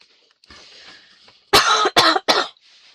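Three sharp, loud coughs in quick succession follow a moment of soft breathy background noise.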